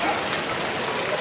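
Steady rain pours down during an electric storm in Querétaro, a dense, even hiss close by that fills the moment with no breaks.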